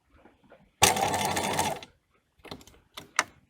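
Domestic sewing machine stitching the sleeve of a gown, a steady whirring run of about a second, followed by several short, sharp mechanical bursts as the needle is raised and the fabric repositioned.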